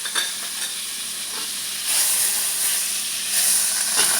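Oil and butter sizzle in a pan heating for sautéing, a steady bright hiss that swells louder partway through, close and with no talk over it.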